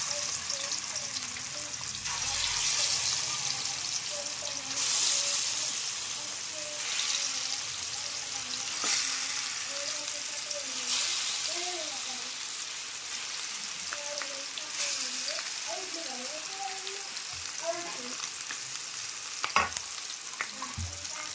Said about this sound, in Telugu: ఆయిల్ వేడెక్కిన తర్వాత ఇప్పుడు మనం కలిపేసి పెట్టుకున్నాం కదా, ఆ ముక్కలు అనేవి వేయాలి.